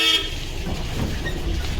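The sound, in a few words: road traffic passing by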